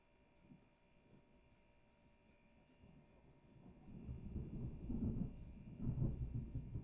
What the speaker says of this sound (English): it turned out it was this rolling thunder